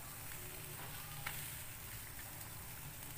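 A fried 600-gram pork chop sizzles steadily in boiling sauce, a continuous close, moderately loud hiss of frying with bubbling throughout and no talk.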